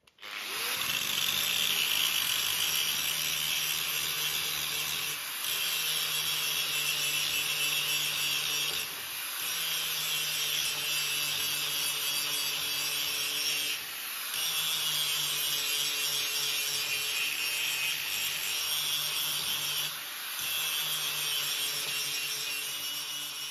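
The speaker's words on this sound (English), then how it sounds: "Just get rid of them nasty bits with the grinder, and then it's a bit kinder on the lathe tool." Angle grinder dressing rough edges of a steel plate being made into a PTO adaptor for a Cummins 6BT flywheel, a steady high whine with abrasive hiss in several long passes separated by brief pauses, close up.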